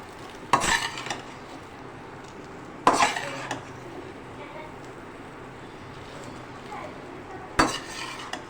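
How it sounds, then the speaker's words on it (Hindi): A utensil scrapes and clanks against a pot three times, short loud strokes between quieter gaps, while spaghetti is stirred and mixed into red tomato sauce with garlic and spices. "खूब अच्छे से इसको मिक्स करते हैं।"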